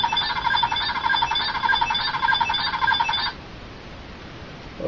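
A Power Rangers Dino Thunder morpher toy gives a shrill electronic alarm-like warble, steady and loud for about three seconds, then cuts off to quiet hiss.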